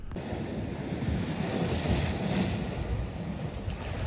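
Seawater surges against rocks on the Goa coast: a continuous rushing wash of surf with wind buffeting the microphone, steady and close with no voices.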